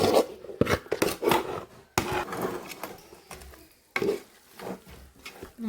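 Beef curry gravy being stirred in a pot, a spoon scraping and knocking against the pot in bursts of uneven strokes with short pauses, close and fairly loud, with no talk.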